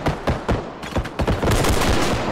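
Rapid Desert Eagle pistol shots in the realistic shooter Bodycam, a quick string of sharp, loud cracks fired close up in fast succession.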